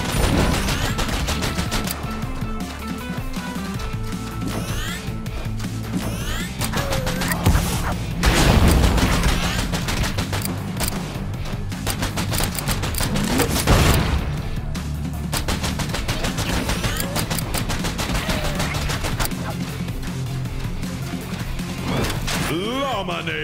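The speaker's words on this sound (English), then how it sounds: "Machine gun!" Rapid machine gun fire in the video game VALA rattles on and off amid dense, loud game sound with music and effects, with a few louder crashing bursts partway through and a voice talking at times.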